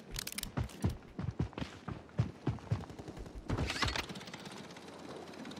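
Rapid bursts of gunfire in the Warzone 3 video game, a loud string of sharp cracks over about four seconds, followed by a denser fusillade near the end.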